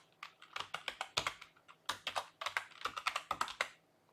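A computer keyboard is typed on in quick, irregular bursts of crisp clicks with short pauses, ending with a keypress for enter, close and fairly quiet with no talk.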